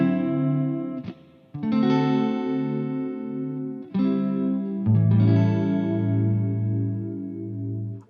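Electric guitar run through a Boss DC-2W Dimension chorus pedal, sustained chords with a wide shimmering chorus, a few pauses and new strums, loud and alone.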